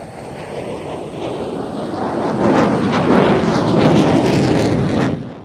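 A pair of fighter jets, a JF-17 and an F-16, roar overhead at an air show performing a side-by-side Cuban 8, a broad, loud rushing engine noise that swells in the middle and fades at the end.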